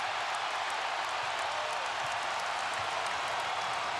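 Basketball arena crowd at NC State roars after the Wolfpack beat seventh-ranked Duke, a steady broadband wall of cheering and applause heard from a distance, continuous throughout.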